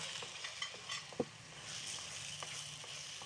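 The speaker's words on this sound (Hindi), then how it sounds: "अच्छी तरह से मिक्स करेंगे दूध को" Milk powder being stirred into carrot halwa in a pan, a soft, continuous sizzle with scattered scraping and tapping from the spoon, close and fairly quiet.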